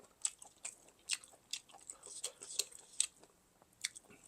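Crunchy chewing of spicy Thai pork intestine salad, close and quiet, with a rapid irregular series of crisp bites and squishy chews and no talking.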